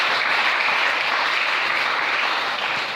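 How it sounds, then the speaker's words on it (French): A church congregation at a French-language sermon breaks into sustained applause, a dense, even wash of clapping from many hands that fills the room without a break. "Est-ce qu'on peut acclamer le Seigneur?"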